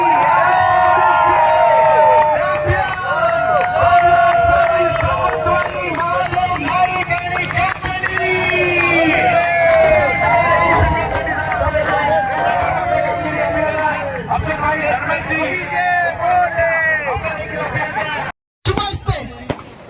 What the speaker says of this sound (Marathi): हजारोची गर्दी, कोकणातील क्रिकेट प्रेमी